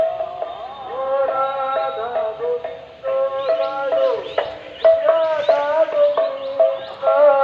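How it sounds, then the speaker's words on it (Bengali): Chickens cluck close by in a series of short, uneven calls that grow busier and more frequent toward the end. "চলো দেখো মুরগিগুলো কতখানি হয়ে গেছে।"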